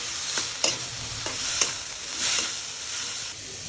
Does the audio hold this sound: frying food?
yes